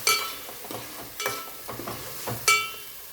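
Chopped tomatoes stirred in a pan for fish curry, with a sequence of close, irregular scraping and clattering strokes over a soft sizzle, with louder bursts at the start and near the end.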